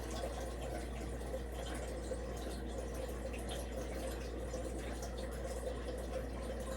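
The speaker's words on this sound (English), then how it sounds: "So let me just add some water" Water poured into a cooking pot for boiling sweet potatoes for a stew, a steady low rushing fill sound lasting throughout, moderately quiet and continuous with no talking.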